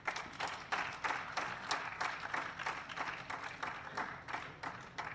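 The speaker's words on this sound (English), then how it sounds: "Big clap for him." An audience at a golden jubilee alumni gathering of the 1972 agriculture batch applauds a speaker, a steady run of many hands clapping at moderate volume, somewhat distant and even throughout.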